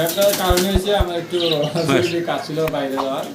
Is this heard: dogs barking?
no